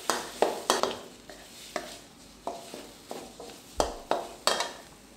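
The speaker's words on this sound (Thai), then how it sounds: "เอากะปิลงไปผัดตามด้วยเลยนะครับ" Shrimp paste being stir-fried in oil in a pan for a Thai red curry with green papaya and canned fish: soft sizzling under repeated scraping and clacking of a spatula, in irregular strokes at close range.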